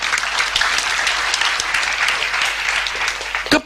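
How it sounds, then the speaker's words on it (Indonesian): A seminar audience claps together in a dense, sustained round of applause that fills the hall at an even level, then ends with one sharp louder clap. "Tepuk tangan saudara."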